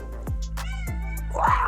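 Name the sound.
kitten meowing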